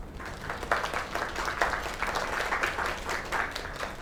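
Applause from an in-game crowd after a singing performance in the video game Lake, an uneven patter of clapping at moderate volume with no talk over it.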